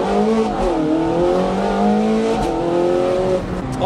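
A car engine revs and accelerates up through its gears, the pitch climbing and dropping with each shift, loud and close with steady road rumble underneath and no talk.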